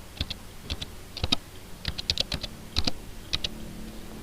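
Fingers type on a computer keyboard in irregular clusters of crisp, close key clicks, with short pauses between bursts and no voice.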